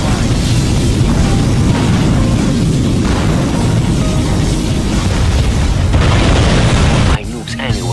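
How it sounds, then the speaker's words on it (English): A long, loud, roaring particle cannon blast in Command & Conquer Generals Zero Hour rumbles continuously for several seconds, then cuts off abruptly into quieter sizzling sounds. "Particle cannon activated."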